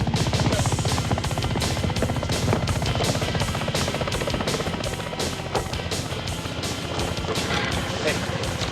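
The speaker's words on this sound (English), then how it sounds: "I will lead the chopper away from you." Helicopter in a film chase scene, a loud, steady rotor chop with rapid regular beats and engine roar filling the whole stretch.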